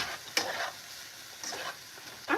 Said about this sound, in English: I don't know why this ain't frying enough.